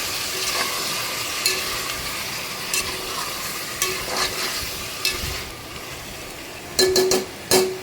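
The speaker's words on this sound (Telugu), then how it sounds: "ఆ నూనెలో ఒకసారి మొత్తం మళ్ళీ ఇది వేపండి" Chicken frying in oil with onions, green chillies and curry leaves for a homemade curry: a continuous moderate sizzle with repeated scraping and clinking stir strokes, the strokes growing sharper and more frequent toward the end.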